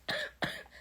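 Two separate coughs from a woman, close and fairly loud, roughly a third of a second apart, each a harsh burst that tails off quickly, with no talking.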